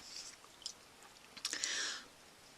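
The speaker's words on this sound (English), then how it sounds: "So I am going to taste the Mountain House beef stroganoff first." Someone chews a mouthful of rehydrated Mountain House beef stroganoff, dry and slightly chewy. Faint close-up smacking and soft mouth noises build to a short louder bite sound.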